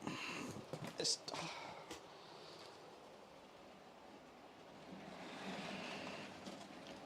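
A train slowing to a stop at a set of points, with a faint rumble of wheels on rail and a brief squeal, followed by low steady noise and a quiet voice murmuring nearby.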